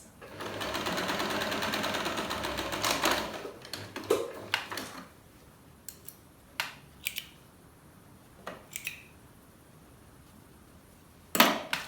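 A sewing machine stitches the fabric pieces of a bonnet, right sides together, in a steady whirring run of about three seconds, followed by scattered clicks and light clinks of handling as the work is adjusted.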